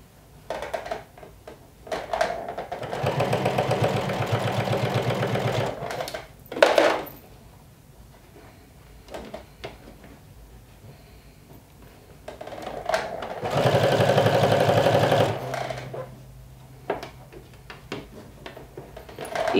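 A sewing machine topstitches a collar in two steady runs of rapid needle chatter, each a few seconds long, close and clear, separated by quieter handling sounds and fabric shuffling.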